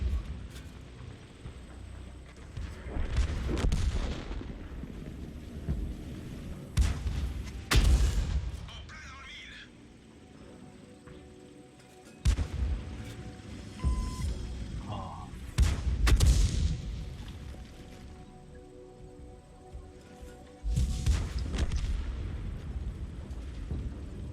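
Artillery tank guns firing in World of Tanks, several heavy booming blasts with rumbling tails spaced a few seconds apart, loud over a continuous low battle drone, with brief game effect tones in between.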